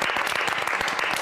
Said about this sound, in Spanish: un aplauso para todos por haber llegado hasta aquí